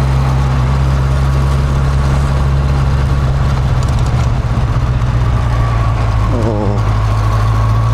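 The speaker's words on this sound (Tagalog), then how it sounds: "Motor yata ito." A motorcycle engine passes on a road at night, its loud steady rumble continuing throughout beneath faint background noise, with a brief voice heard.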